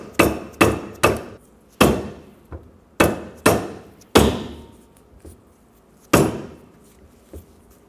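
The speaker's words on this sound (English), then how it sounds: "Use a soft face mallet and just little taps." A soft face mallet taps a front wheel bearing hub into place on a 2014-2019 Toyota Highlander, producing about a dozen sharp, close knocks in an irregular rhythm with brief ringing decays.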